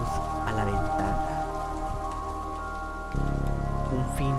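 Steady rain falling, heard as a continuous hiss over a low droning tonal backdrop that shifts in level partway through.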